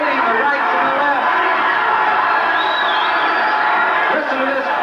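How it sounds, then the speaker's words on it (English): A capacity crowd at the Lake Charles Civic Center roars and cheers for two boxers trading punches, a loud, continuous wall of voices with whoops and shouts rising out of it. "Listen to this crowd, a capacity crowd here at Lake Charles Civic Center, cheering these fighters on."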